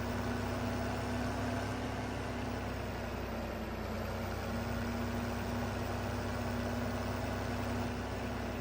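Tractor engine idling in Farming Simulator 15, parked near a honey wagon on a farmyard: a steady, unchanging mid-pitched hum with a constant drone, moderately quiet and alone.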